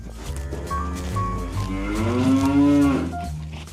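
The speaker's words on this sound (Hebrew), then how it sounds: "Cow," A cow gives a long, close, low moo that swells in the middle and fades at the end, heard alone.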